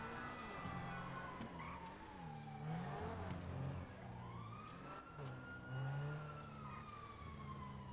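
A police car siren in a video game wails in long rising and falling sweeps over a low engine rumble, fairly distant and faint, repeating steadily across the span with no talk.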